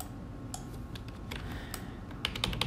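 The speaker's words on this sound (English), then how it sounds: "I'm increasing the brush size a little bit by pressing bracket button on the keyboard" Keys tapped on a computer keyboard while photo-editing software is in use, including bracket keys pressed to change brush size: scattered light clicks, a few single presses and then a quick cluster near the end, close and fairly quiet.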